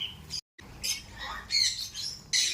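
Birds squawk and chirp in a park aviary at Yelagiri, with bright, irregular calls repeating close by over a low background hum and a brief moment of silence.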